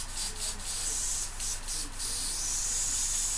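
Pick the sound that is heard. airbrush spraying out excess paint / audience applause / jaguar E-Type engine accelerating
airbrush spraying out excess paint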